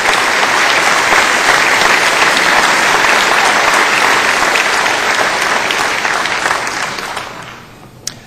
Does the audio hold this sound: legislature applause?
yes